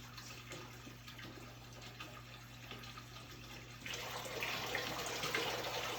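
Water pours in streams from a solenoid-controlled waterfall display made with tubing, a steady splashing wash that swells louder partway through.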